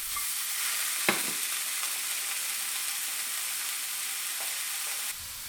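Tortillas heat in a pan with a steady, close, broadband sizzle that holds evenly throughout. A brief scrape or shift is heard early, and the sizzle drops slightly near the end.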